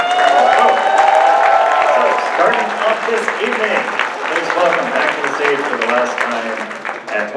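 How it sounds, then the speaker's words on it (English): An audience at a closing ceremony in Burlingame, California claps and cheers for departing guests of honor, with loud, sustained applause filling the room and crowd noise throughout. "let's give a warm departure of applause here for all of our amazing guests of honor who have joined us here in Burlingame, California this weekend"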